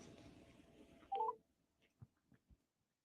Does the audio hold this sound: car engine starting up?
no